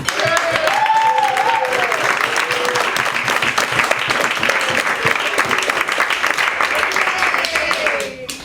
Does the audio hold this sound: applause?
yes